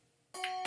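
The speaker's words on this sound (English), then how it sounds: "And there are the bells again." Two quick bright chimes of church bells ring out close after a short silence during a Sunday service, the tones lingering briefly.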